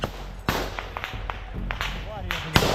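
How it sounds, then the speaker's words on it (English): Sharp cracks of gunfire echo near a Russian trench, several separate shots spaced irregularly over a murky background rumble, with faint voices mixed underneath. "The downside is that the sound of gunfire echoes a lot"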